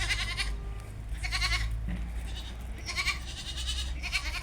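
Goats and two-and-a-half-month-old goat kids from a dairy line bleat repeatedly in short, wavering bursts on a farm near Shymkent, fairly close, over a steady low hum with no talking.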